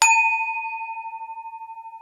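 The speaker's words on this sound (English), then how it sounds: "I'm going to ring this bell." A single bell struck once, ringing out with a clear, bright tone that sustains and slowly fades over two seconds, with a gentle wavering pulse in its decay.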